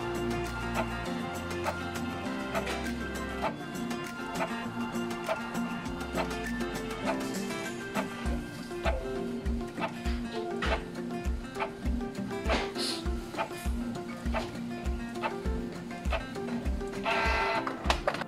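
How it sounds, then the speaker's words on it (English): A Canon Pixma G3010 inkjet printer printing a page: a whirring feed mechanism, then a steady run of rhythmic clicking and ticking from the print head sweeping back and forth, close and alone. "just go back and tap Print to start printing"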